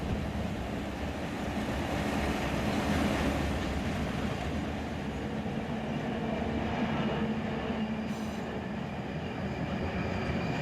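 A freight train rumbles along steadily in the Run8 train simulator game while working a rail yard, a continuous loud rolling roar with no talking.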